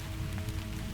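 Steady rain falls outside a cabin, a dense, even hiss of drops on surfaces that holds constant throughout with no voices.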